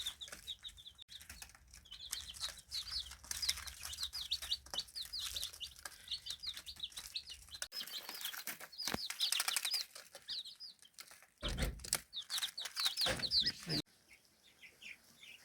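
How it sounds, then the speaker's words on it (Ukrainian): Small chicks chirp constantly in high, thin peeps, many voices overlapping at close range, with occasional soft rustling and a louder burst near the end. "Взяли 10 дуже маленьких курчаточок. Ось усі курчатка."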